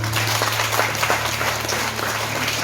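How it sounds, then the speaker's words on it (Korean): Church congregation claps together in a short burst of steady, close applause over a low sustained musical hum, with no voices. "하나님께서 그 영혼을 향하여 박수를 쳐주신다면 얼마나 세게 박수를 쳐주실까요?"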